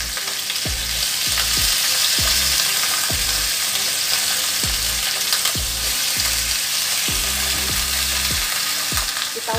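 Chicken pieces pan-frying in their own rendered fat, a loud continuous sizzle with irregular low thumps and clatters from turning or stirring, close up and without voices.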